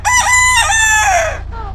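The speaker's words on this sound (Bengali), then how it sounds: "হঠাৎ দূরে ভেসে আসে মোরগের ডাক" A rooster crows once in a Bangladeshi village, a loud, close, rising and falling cock-a-doodle-doo that trails off at the end.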